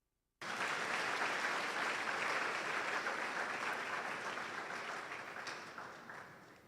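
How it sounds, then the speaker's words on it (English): Audience at a pharmacy white coat ceremony bursts into sudden applause after silence, dense clapping from a large crowd held strong, then gradually thinning and fading toward the end. "Won't you clap for that?"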